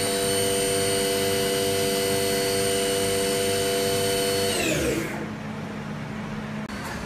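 A 2013 Haas TM-2P milling machine spindle spins at 6,000 RPM, giving a steady high whine with layered tones that winds down and fades near the end of the clip.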